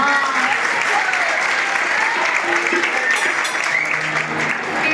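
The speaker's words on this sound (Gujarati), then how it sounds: "મોજ આવે તો તાળીઓના ગડગડાટ કરજો" Sustained, dense applause from the audience at a Gujarati folk dayro performance, loud and steady throughout with no break and no voices over it.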